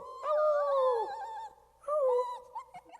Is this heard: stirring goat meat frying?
no